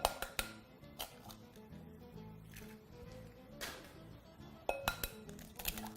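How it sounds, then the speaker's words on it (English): Two medium-sized eggs cracked against the rim of a dish for a Mediterranean egg bake strata, giving sharp clinks and taps at the start and again near the end, over quiet background music. "we're also going to proceed to crack in about 2 whole medium-sized eggs"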